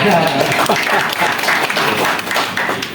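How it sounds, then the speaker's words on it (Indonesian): An audience at a regional representatives' forum gives a short burst of applause for a minister, close and fairly loud, with voices mixed in among the clapping for about three seconds. "Tepuk tangan."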